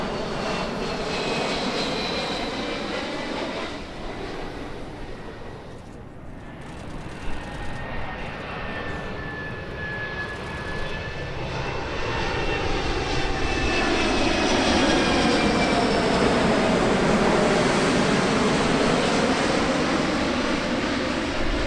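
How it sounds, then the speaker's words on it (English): Malaysia Airlines long-haul Airbus airliners fly past at the LIMA 2017 air show, a loud sustained jet roar that swells and shifts in pitch as the aircraft pass overhead. "a brief appearance from Malaysia Airlines' long-haul Airbus fleet"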